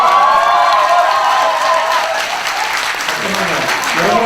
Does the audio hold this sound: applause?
yes